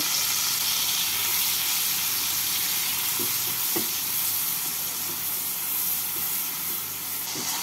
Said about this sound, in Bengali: এবার মশলাটাকে ভালো করে ভেজে নেব